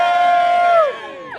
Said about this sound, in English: Big cheer for McLaren Honda